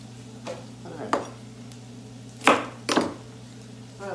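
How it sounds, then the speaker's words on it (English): A knife thinly slices vegetables such as Brussels sprouts for a beef stir fry, producing a few separate crisp cuts against a board, close up over a low background hum. "I'm just going to thinly slice them like that."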